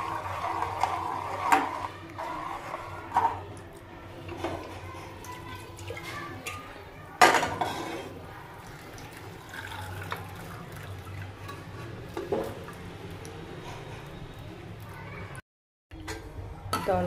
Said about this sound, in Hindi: दाल को मैंने पलट दिया